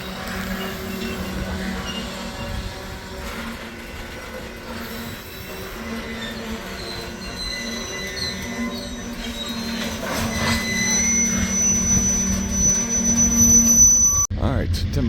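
A westbound freight train rolls through Fremont off the Blair Fremont subdivision, a steady rumble of rail cars with high wheel squeal, growing louder toward the end before a sharp clank.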